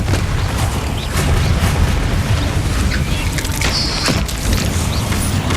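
A Confringo fire spell blasts in Hogwarts Legacy, a loud sustained booming explosion with dense low rumble and crackling bursts throughout, no talk.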